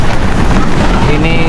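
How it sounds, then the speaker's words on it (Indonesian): Heavy rain and storm wind batter a tent on Mount Tateyama in Toyama, Japan, as a loud, steady roar of wind and rain on the microphone, with a brief voice in the background. "Ternyata keadaan makin memburuk. Hujan deras"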